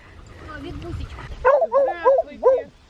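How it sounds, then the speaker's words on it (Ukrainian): A dog gives four quick, loud yipping barks in a row up close, preceded by softer whining sounds. "Ти що на мене гавкала?"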